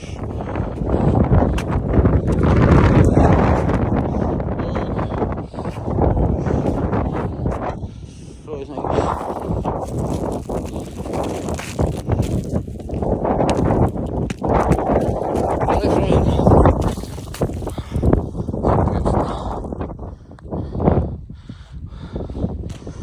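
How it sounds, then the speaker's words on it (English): Strong snowstorm wind buffets the microphone in heavy, surging gusts that rise and fall over the whole stretch, with a person talking intermittently underneath. "It got really windy."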